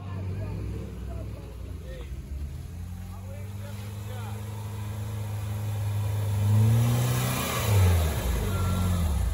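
An off-road vehicle pulls away along a forest track, its engine a low steady rumble that swells into louder revving toward the end, with voices faintly present underneath.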